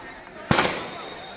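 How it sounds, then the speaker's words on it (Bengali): Police fire blank shots during a street clash with thrown bricks; a single sharp gunshot bang rings out from a distance, then fades against the background noise. "অন্য পাশ থেকে গুলির শব্দ হয়তো আপনারা শুনতে পাচ্ছেন।"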